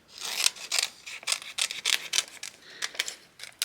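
Scissors snipping through paper to cut out a heart shape, a rapid string of crisp close-up cuts and rasping blade strokes with no talking.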